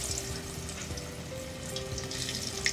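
Battered, flour-coated chicken frying in a pot of hot oil, a dense, continuous crackling sizzle heard close up and alone.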